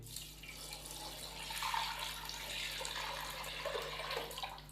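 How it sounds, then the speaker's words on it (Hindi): Water is poured into a cooking pot to make stock for chicken pulao, giving a continuous splashing, gurgling flow that holds steady for several seconds. "तो अब हम इसके अंदर 5 गिलास पानी शामिल करेंगे यखनी के लिए।"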